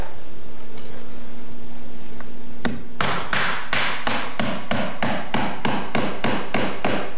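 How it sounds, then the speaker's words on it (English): Steel finish hammer, smooth-faced rather than waffled, driving nails into 3/4 inch pine trim around a 4 by 4 foot window: a steady run of about a dozen loud, sharp strikes at a regular rhythm, close by, after a faint hum. "you want to be using a finish hammer"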